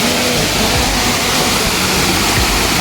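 Water pours along a steep, slippery mountain hiking trail in the Seychelles, making a loud, close, unbroken rushing roar.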